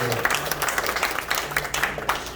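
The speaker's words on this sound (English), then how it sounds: "Round of applause." A short round of applause from a small group at a real estate investors meeting, steady close clapping with talk mixed in.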